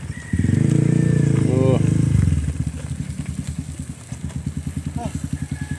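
A motorcycle engine idles and putters close by at a riverside picnic spot in Infanta, Quezon, with a steady pulsing throb beneath loud nearby talk.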